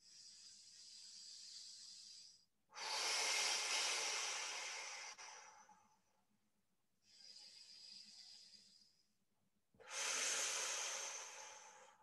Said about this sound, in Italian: Respira e fuori l'aria